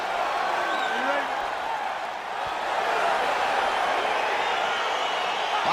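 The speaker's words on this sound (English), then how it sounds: "crowd getting excited as this fight gets underway" An arena crowd in the UFC 4 fighting game roars and cheers continuously, a dense steady wash of many voices with occasional whistles rising above it.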